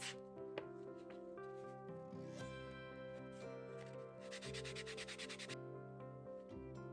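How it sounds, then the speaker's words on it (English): Steady, close rubbing of an abrasive across a leather edge, with a brisk, rapid back-and-forth scrubbing burst partway through, all over a faint tonal hum. "Remove extra leather, sanding edges,"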